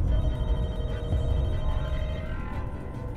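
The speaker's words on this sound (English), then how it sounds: "I'm gonna answer the phone." Phone ringing in The Walking Dead: Michonne video game, a steady continuous ring over dense game audio with no talk.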